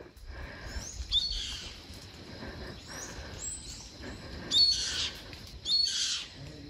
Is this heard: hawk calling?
yes